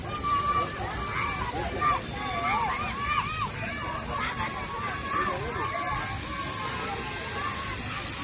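Water flowing at a lit fountain at night in Shilparamam, a steady splashing wash beneath a busy crowd babble, with people talking nearby throughout.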